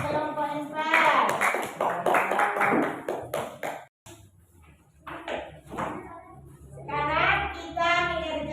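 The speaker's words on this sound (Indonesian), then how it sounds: "tepuk tangan untuk kelompok empat" Schoolchildren in a classroom clap for a group of classmates, with bursts of rhythmic hand claps mixed with children's voices and a brief pause midway before the clapping and chatter resume.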